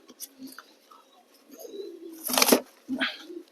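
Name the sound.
pigeons cooing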